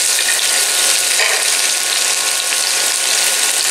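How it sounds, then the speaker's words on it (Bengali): Bitter gourd frying in hot oil for an ucche dal recipe, producing a loud, dense, continuous sizzle and crackle close up, with no voices over it. "তেলটা গরম হয়ে গেছে, এবার তেলের মধ্যে উচ্ছেটা দিয়ে দিলাম।"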